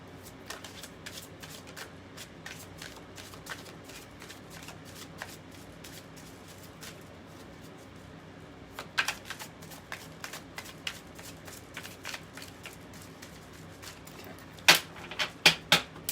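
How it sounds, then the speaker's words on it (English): Oracle and tarot cards are shuffled by hand in a quiet room, a steady run of soft riffling flicks with a few sharper card snaps near the end. "Let's do one more shuffle."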